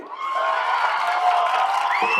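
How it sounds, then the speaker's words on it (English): Crowd at a high school football game, Manalapan versus TR North, cheering and whooping loudly off to one side, a sustained roar of voices with shouts rising above it throughout. "You can hear the crowd there to our left as they love every minute of that."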